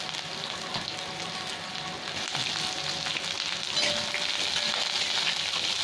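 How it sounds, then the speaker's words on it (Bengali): Onions sizzle in a hot pan with fried chana dal and spices, a steady close hiss with faint stirring scrapes and no talking. "এখানে আমার মশলাটা ভালো ভাজা হয়ে গেছে, ছোলার ডালগুলো। এবার আমি পেঁয়াজ দিয়ে দেব।"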